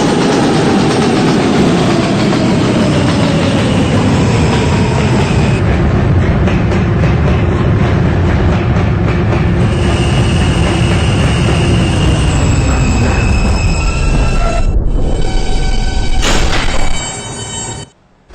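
An R160B subway D train rides the rails in a loud, steady rumble with a falling whine and rhythmic wheel noise, running continuously before cutting off abruptly at the end.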